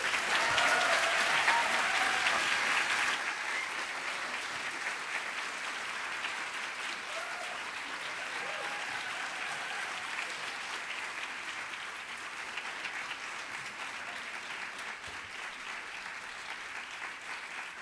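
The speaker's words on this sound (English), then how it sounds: "Please give a rock star round of applause for the remarkable Michael Bierut" Audience applause for designer Michael Bierut at a CreativeMornings New York talk, a dense, full-room wash of clapping that starts loud, eases slightly after a few seconds and carries on steadily throughout.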